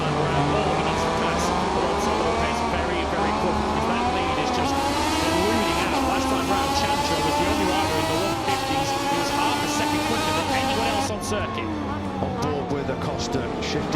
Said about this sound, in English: Costa shifting back to second gear, closes right in on the brakes into turn 5 on Dixon